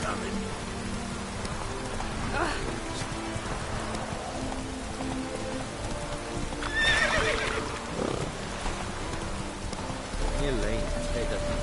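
A horse in the Witcher 3 video game clip-clops along at a ride, with a couple of sharp neighs partway through, all over steady falling rain in the background.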